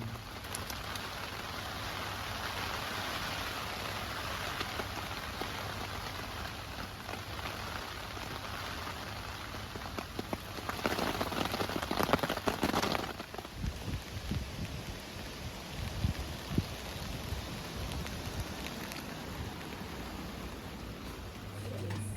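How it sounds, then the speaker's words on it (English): Heavy rain pours steadily in a continuous broadband hiss, swelling louder for a few seconds midway, with no voices. "Sunshine to pissing with rain."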